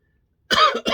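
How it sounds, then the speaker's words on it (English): A single harsh cough bursts out close to the mic after a moment of silence, followed by a brief second hack. "Nearly gone the cough"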